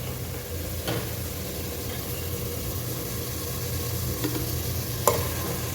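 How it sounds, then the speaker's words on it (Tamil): Bay leaf and whole spices sizzling in mustard oil and ghee in a pan, giving off a steady, moderate frying hiss with a few faint clinks of a utensil. "ஸோ இதில் மஸ்டர்ட் ஆயில் போட்டுக்கிறேன்."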